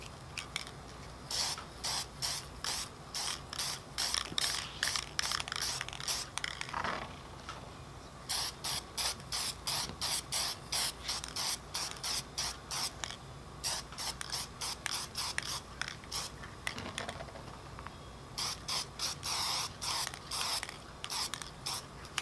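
Short bursts of aerosol spray paint hiss again and again as a coat goes onto a Team Associated B6.1 RC car body, close and steady, with brief pauses between passes and no talking.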